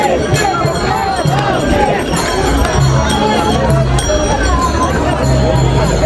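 A dense crowd of pilgrims at the Palkhi procession on the route from Pune to Saswad mills near a ghat, making a continuous close hubbub of overlapping voices, shuffling and scattered calls.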